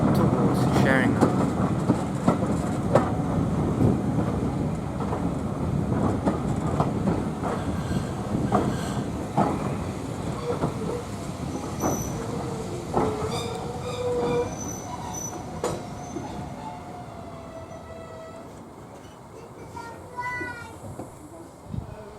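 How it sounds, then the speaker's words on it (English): A locomotive runs slowly around its train on a heritage line near Sheringham, with rumbling wheels, clanking couplings and brief wheel squeals, fairly close, with some voices faintly beneath. "where the loco runs around its train for its return trip towards Sheringham"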